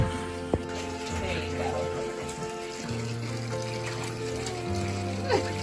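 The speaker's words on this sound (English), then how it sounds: "show you the ducks having some fun in the" Ducklings splash in bathtub water, sloshing and trickling with light splashing movement, alongside a steady low hum, with no talking.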